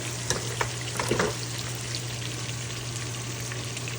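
Fish frying in a pan on a kitchen stove, a steady crackling sizzle with a constant low hum beneath it and a few brief spattering pops near the start, no voices.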